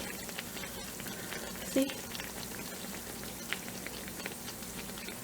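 Muttappathiri batter fries in hot oil with a soft, continuous bubbling and fine crackle, and one brief louder clack partway through.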